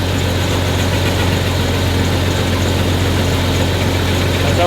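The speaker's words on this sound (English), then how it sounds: "just started this up, let it idle for like 10 minutes" Jeep ZJ engine idling just after startup, a steady loud low rumble with an even pulse throughout, close to the vehicle.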